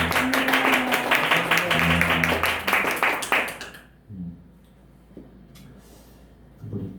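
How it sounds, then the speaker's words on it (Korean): A church congregation claps together for a returning member during a Sunday service, dense applause lasting about four seconds, mixed with a sustained sung or hummed tone, then fading into quiet room noise. "환영한다고 박수하겠습니다."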